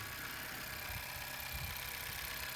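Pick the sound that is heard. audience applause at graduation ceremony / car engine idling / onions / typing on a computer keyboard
car engine idling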